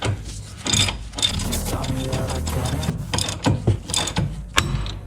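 Ratcheting clicks as a separator fork screw is tightened to force loose a ball joint on a 2008 Honda Element, a rapid run of rhythmic metallic ratchet strokes close up, with brief pauses between bursts.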